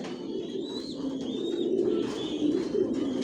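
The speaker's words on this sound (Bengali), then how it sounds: "এগুলো ইম্পোর্ট করা কবুতর পাইট রেসার" Imported pied racer pigeons coo in a loft where they sit with their young, a soft, continuous low burbling with a few faint higher chirps, close and steady.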